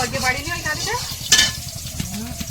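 Aubergine and potatoes with salt and turmeric fry in oil in a pan, a close continuous sizzle broken by stirring scrapes, with faint speech-like sound mixed in.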